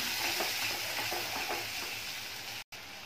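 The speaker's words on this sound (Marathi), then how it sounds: "गॅसचा फ्लेम स्लो करून मसाला आहे तो छान परतून घ्यायचा" Masala with thick yogurt being stirred and fried in a pan over a low flame, a steady close sizzle with soft scraping stirs, cut by a brief silent gap near the end.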